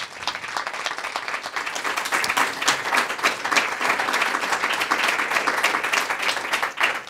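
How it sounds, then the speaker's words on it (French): Steady, dense applause from a university conference audience at a rights day event, filling the room at an even, sustained level throughout with no voices on top. "Je vous remercie de vous applaudir."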